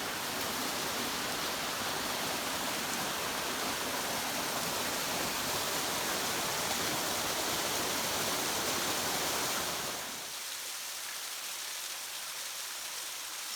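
A mountain stream flows over rocks in a steady, broad rushing wash, close and constant, easing slightly in intensity near the end.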